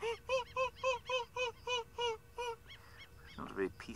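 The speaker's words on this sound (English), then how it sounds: "The bird you can hear is the wattled lapwing." Wattled lapwing giving a loud run of regular, evenly spaced honking calls, about ten in quick rhythm, then a few softer calls and a brief burst of other noise near the end.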